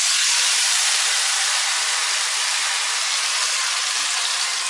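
Ingredients hit hot oil in a home kitchen and set off a steady, bright hiss of sizzling. The sound is even and continuous, fading slightly over a few seconds, with no talking.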